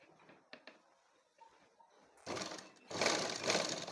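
A sewing machine starts stitching fabric after a quiet stretch of small handling clicks, running in two loud, steady bursts that grow slightly louder toward the end.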